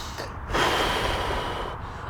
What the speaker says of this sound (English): Always breathing in through the nose